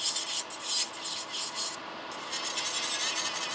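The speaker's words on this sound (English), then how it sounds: "I will file away those crystals here" A nail file rubs rapidly back and forth over gel nail crystals, a close, steady scratchy rasp in quick repeated strokes that pauses once briefly before resuming.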